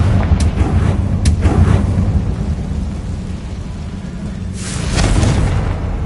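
A Confringo explosion spell in Hogwarts Legacy goes off as a deep, rumbling blast, with a couple of sharp cracks early on and a second swelling burst near the end, no talking.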